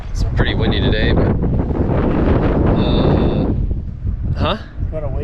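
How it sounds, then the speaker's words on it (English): Strong gusty wind at a lake buffets the microphone with a loud, continuous roar that surges and eases, with brief voices and faint tonal sounds partly buried underneath. "It's pretty windy today"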